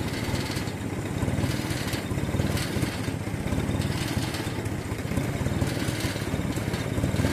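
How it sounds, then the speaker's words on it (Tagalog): An owner-type jeep's small engine idles roughly and unevenly, its low rumble steady and close with a shaky, sputtering throb, as if about to stall. "nanginginig na itong makina mo"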